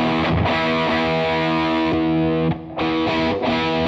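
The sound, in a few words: electric guitar through Marshall Guv'nor-style distortion pedal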